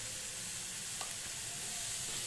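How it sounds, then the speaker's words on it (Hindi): Mixed vegetables sauté with black pepper, red chili powder and salt for veg momo filling, giving a continuous close hiss and sizzle in the pan, with a faint clink of stirring. "सभी सब्जियों को हम फिर से आधे मिनट तक मसाला के साथ अच्छे से भून लेंगे"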